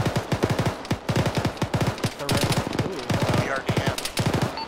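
A BTR armored vehicle in the military game Arma fires its machine gun in rapid, sustained bursts, a steady rattling stream of heavy shots with brief gaps, loud and fairly close, with no talk over it.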